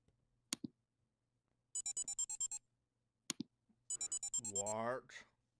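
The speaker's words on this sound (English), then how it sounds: "your phone starts to give off several beeps" A phone gives off a game-style sound effect: two sharp clicks, each followed by a quick burst of rapid electronic beeps, the last ending in a rising warbling chirp, clear against silence.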